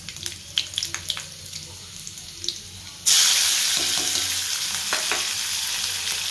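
Peanuts hit hot oil in a pan partway through, bursting into a loud, steady frying sizzle after a few quieter kitchen clinks and taps.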